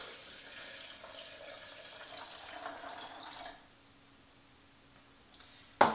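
Filtered water pours steadily into a blender for a few seconds, then stops, followed by a quiet pause and a sudden short clatter at the end.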